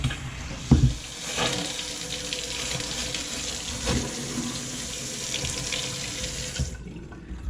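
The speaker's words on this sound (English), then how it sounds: "Let's turn on our water" A faucet runs steadily into a sink, a constant close hiss of water, with a clunk near the start and the flow shutting off at the end.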